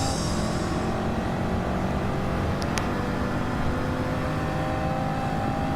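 A Corvette race car's engine drones steadily in a racing video game, a constant loud roar with a brief higher whine near the middle and no pauses.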